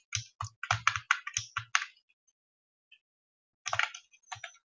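A computer keyboard clatters in quick close bursts as a file name is typed, a run of rapid keystrokes, a pause, then a few more taps.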